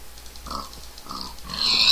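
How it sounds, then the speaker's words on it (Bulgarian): A pig in the video game Minecraft lets out a few short, nasal grunts close up, roughly three in two seconds, with no talking over them. "Откачено прасе."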